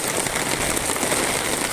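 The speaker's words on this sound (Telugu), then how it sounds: "జగిత్యాల డిస్టిక్లో వర్షం విపరీతంగా కొడుతున్నది" Heavy rain pours down on a residential colony in Jagtial district as a steady, dense hiss that keeps the same level throughout, with no talking.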